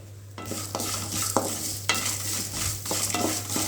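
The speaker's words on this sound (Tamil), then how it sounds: "கடலைப்பருப்பு உளுத்தப்பருப்பு தனியாக நல்லா வறுபட்டுருச்சு" A spoon scrapes and stirs dry chana dal and urad dal roasting in a hot pan, with irregular scraping strokes over a faint sizzle and a low steady hum.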